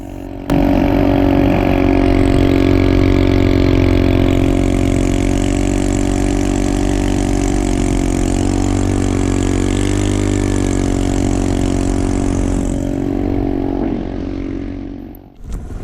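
A small 2 hp Honda four-stroke outboard motor on a skiff runs steadily at close range, a loud continuous droning hum that holds even for about fourteen seconds before cutting off. Its propeller sits shallow in the water.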